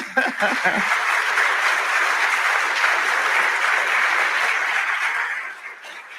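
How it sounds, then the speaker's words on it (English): A large crowd applauds a panel steadily for several seconds at a conference forum, dense and loud, fading slightly at the end. "Let's give them a big, big round of applause."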